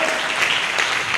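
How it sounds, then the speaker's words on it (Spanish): Church congregation applauding for Christ during a sermon, a dense, steady wash of many hands clapping close and loud, filling the short moment with no clear voices on top. "denle un aplauso a Cristo"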